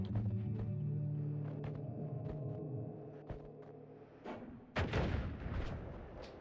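A spell shot fired downward in the game Noita: a dense series of booming, rumbling blasts with sharp cracks, then a louder burst of explosive impacts toward the end. No voices are heard.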